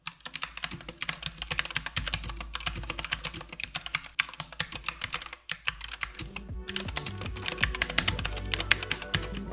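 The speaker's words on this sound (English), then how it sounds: "let me provide you with a sound test of this keyboard" A mechanical keyboard with red switches clatters under continuous fast typing, a dense, close run of light keystroke clicks with a few brief pauses.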